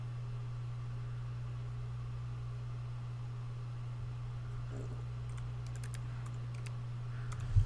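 Computer keyboard typing CSS code: faint, scattered key clicks over a steady low electrical hum, with a small cluster of taps near the end.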